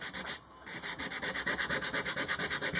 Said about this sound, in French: On va poncer aussi ça.